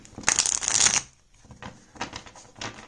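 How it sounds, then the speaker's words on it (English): A tarot deck is shuffled in a crisp, riffling burst, followed by a few softer shuffles and card flicks close up. "Let me shuffle one more time."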